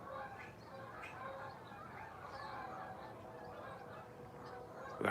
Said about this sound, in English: We got honkers. You hear them?